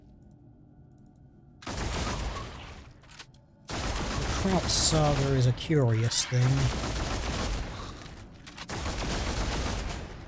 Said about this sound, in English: Just like just rapid firing fucking bolt guns into them